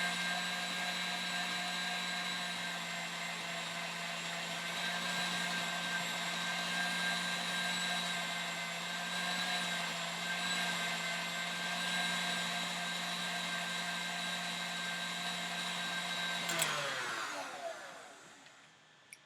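A steady, loud electric mixer whirs continuously while whipping egg whites for angel food cake. Near the end it winds down in pitch and stops.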